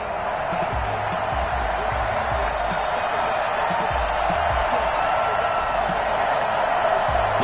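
A stadium crowd in a Madden NFL game between the Kansas City Chiefs and Denver Broncos makes a steady, dense roar that holds at an even level throughout, with no distinct cheers standing out.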